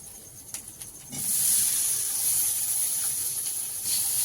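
Potatoes tipped into hot mustard oil with spices and chili powder set off a sudden loud, bright sizzle that holds steady and hissing after a few quiet kitchen clinks.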